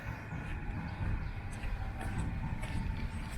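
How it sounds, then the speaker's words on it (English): A train rolls past close to St. Matthäus cemetery in Berlin, a low steady rumble with faint rail clatter holding at an even moderate level throughout. "So you can hear the train going by, how close we are."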